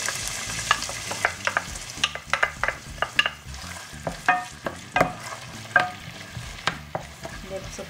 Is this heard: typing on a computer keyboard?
no